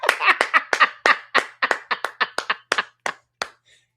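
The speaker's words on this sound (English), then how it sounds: "Give a hand clap of praise for my mods" About fifteen sharp hand claps in a quick, slightly uneven rhythm, close and clear, slowing and thinning out toward the end.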